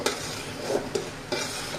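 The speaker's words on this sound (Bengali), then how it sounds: "এই যে পিঠা ভাজা হচ্ছে" Phool pitha fry in hot oil with a soft, steady sizzle. A few light scraping stirs and brief clinks from a utensil against the pan sound up close, with no talk.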